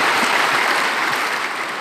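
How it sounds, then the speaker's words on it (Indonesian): A church congregation applauds during a sermon, a loud, full, sustained roar of many hands clapping that stays even throughout with no speech over it. "Berikan tepuk tangan kita untuk Tuhan kita."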